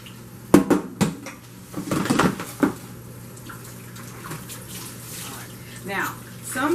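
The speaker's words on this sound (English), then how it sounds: "I like to continue to clean my chicken until the water that comes from it is clear" Raw chicken leg quarters rinsed under a running tap in a kitchen sink, with irregular splashing and clattering bursts near the mic early on, then a softer steady trickle of water.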